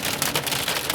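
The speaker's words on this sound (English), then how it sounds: "wind-driven hail here" Small wind-driven hail pelting a vehicle during a severe storm, a dense, loud, continuous hiss and patter of impacts close around the cabin.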